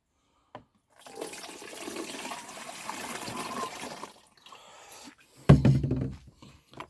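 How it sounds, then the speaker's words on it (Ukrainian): Water pours steadily into the tank of a 12-litre Forte cordless sprayer for about three seconds, then stops; a few clunks and handling noises follow. "Зараз я туди знову наливаю водичку."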